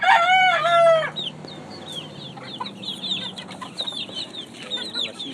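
A Florida Black chicken crows loudly at close range, then keeps clucking and making shorter calls. Other birds chirp faintly in the background of the farmyard.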